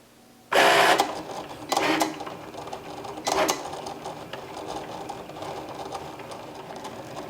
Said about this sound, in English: I'm always so impressed by how beautifully this machine draws.